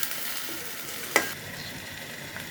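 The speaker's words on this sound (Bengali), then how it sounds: "মশলা কষানো হচ্ছে" Masala of spices sautés for a beef and liver curry, a close, steady sizzle with one short clatter of a spoon against the pan partway through.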